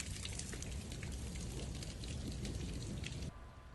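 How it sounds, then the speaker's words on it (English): Heavy rain pouring down in sheets during an Arizona winter storm, a dense, steady hiss of drops pounding surfaces, continuous and loud, easing slightly near the end. "the rain at times just coming down in sheets, really just pounding"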